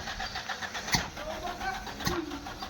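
Engine with a faulty carburetor cranking but refusing to start, a rapid rhythmic starter churn with a couple of sharp clicks, fairly close and moderately loud.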